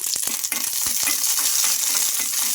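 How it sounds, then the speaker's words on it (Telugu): Green chillies fry in oil in a kadai, a loud, close crackling sizzle with sharp ticks and pops from spoon stirring, heard alone. "మనకు మిర్చి అయితే బాగా ఫ్రై అవ్వాలి"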